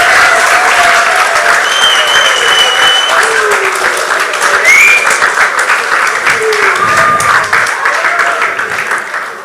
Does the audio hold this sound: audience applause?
yes